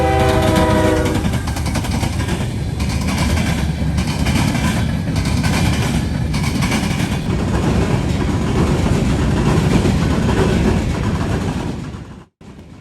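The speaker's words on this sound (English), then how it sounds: "Leading the way was another ES44ACH, followed by a GP40-2 4-axle, which I believe might have been ex-Conrail." A freight train led by an ES44ACH and a GP40-2 four-axle locomotive in central Ohio sounds a short horn blast, then rumbles and clatters past loudly and steadily with rail noise, cutting off abruptly near the end.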